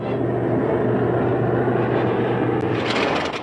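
A propeller airplane drones in a 1937 Dick Tracy film serial, a low steady engine rumble with a humming tone that fades slightly near the end, heard alone.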